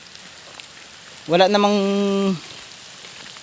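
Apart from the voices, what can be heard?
sudden heavy rain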